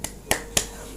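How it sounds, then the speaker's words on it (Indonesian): Three sharp hand claps land close and fairly quiet, the last two about a quarter second apart, with no voices. "tepuk tangan"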